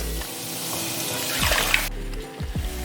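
Two cups of water poured from close by into a kitchen pot, a steady splashing rush of water that cuts off partway through, followed by a couple of soft knocks.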